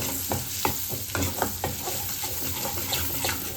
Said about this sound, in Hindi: इसमें डाल देती हैं ये प्याज कटी हुई, सारी की सारी प्याज डाल देंगे।